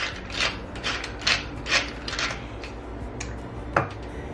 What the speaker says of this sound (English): I like to add in a little bit of cracked black pepper